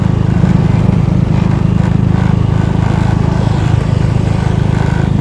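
A car passes on a road in Aceh Singkil, heard as a steady low engine rumble that stays loud and close throughout, with no talk over it.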